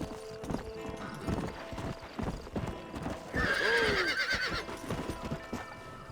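Hooves clip-clop in a steady rhythm as a horse moves near Fort Mercer in the Red Dead Redemption video game, then the horse whinnies loudly partway through while the hoofbeats continue close by.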